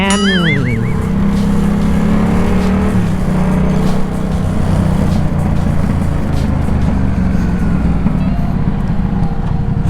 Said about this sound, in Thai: ฟิลขับท่อลัดดนี่มันมันจริงๆนะ นี่ถ้าไม่ใส่จุกรถเสียงนี่น่าจะดังกว่านี้นะ